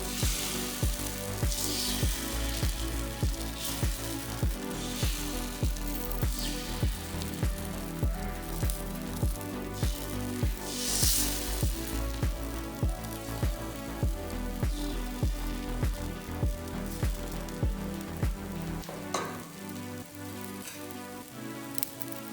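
Pudha batter sizzling on a hot tawa with oil, a steady close hiss with a faint regular tapping pulse running through it, continuing unbroken until it drops away near the end.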